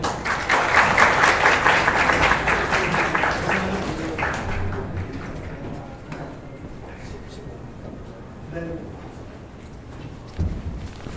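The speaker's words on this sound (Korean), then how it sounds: "박수로 환영해 주세요." A crowd at a blockchain conference's lightning talk session applauds to welcome a presenter: loud, dense clapping for several seconds that thins and fades out, leaving a few scattered claps near the end.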